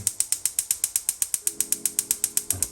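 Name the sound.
stove burner igniter clicking when turned on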